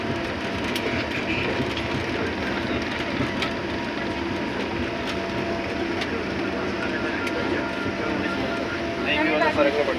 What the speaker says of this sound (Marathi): आपलं आता विमान उड्डाण भरत आहे